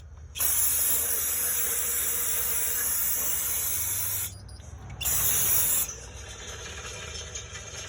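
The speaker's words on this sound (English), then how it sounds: "spray everything down and get all the thick stuff off with the brake cleaner" Loud close hissing bursts of brake cleaner sprayed on a 2014 Dodge 1500, one long continuous spray of about four seconds, a brief pause, then a shorter blast, with quieter hiss lingering afterward.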